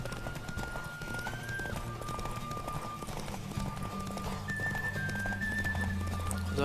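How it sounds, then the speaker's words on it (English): Galloping horse hooves in The Witcher 3, a steady rhythmic clip-clop under a continuous rush of wind and game music. "Don't spare the horse!"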